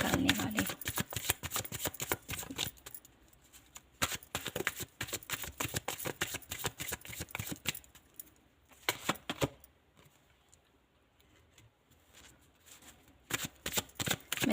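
Tarot cards being shuffled by hand in repeated bursts of crisp riffling and flicking, close and fairly loud, with brief quieter pauses between rounds and no talking.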